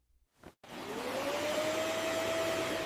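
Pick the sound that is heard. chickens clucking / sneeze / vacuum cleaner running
vacuum cleaner running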